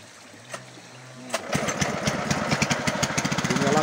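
A sago grating machine fitted with a grater blade starts up after a quiet moment and settles into a loud, rapid, pulsing engine chug close by.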